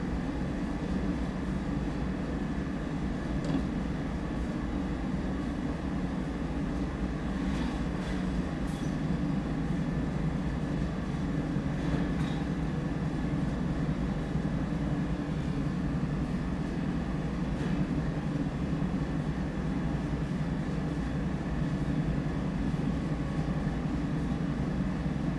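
Heavy freight train in Train Sim World hauling fifty empty 26-ton wagons behind its locomotives, a steady loud low rumble and rolling drone that holds unbroken throughout with faint clanks on top.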